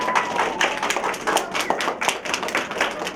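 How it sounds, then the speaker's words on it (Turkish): A small crowd claps in scattered, uneven rhythm for the helpers at a mountain garlic promotion event, a brief burst of moderately loud hand claps with no talk. "Bunlara da bir alkış alalım hep beraber."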